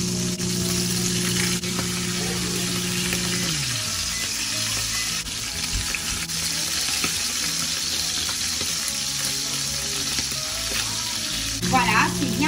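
Oxtails browning in butter in a hot pan, giving a steady, close sizzle and frying hiss that holds for the whole stretch, with a brief stir near the middle and no talk.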